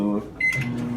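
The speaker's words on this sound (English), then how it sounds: "we're gonna put these in the microwave for about 1 to 2" A microwave oven hums steadily while melting a bowl of chocolate chips, with a brief higher electronic tone partway through, fairly close and loud.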